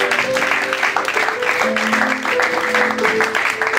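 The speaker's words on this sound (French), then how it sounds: "Acclame que le Seigneur pour toi." Church congregation applauding during a French-language sermon, a dense steady wash of clapping with sustained tonal voices or music threaded through it, fairly loud and continuous throughout.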